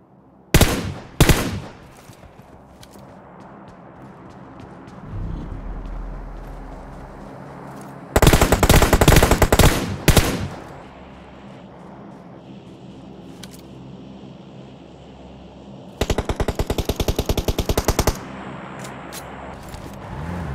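Bursts of automatic gunfire in an online battle royale shooter match, several loud rapid volleys with a sustained stretch, separated by quieter game ambience and no talk.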